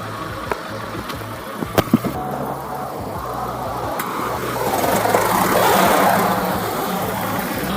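A car engine catches after a jump start and settles into idling, rising in level midway then holding a steady mid-pitched rumble, close by, with a few clicks and knocks early on.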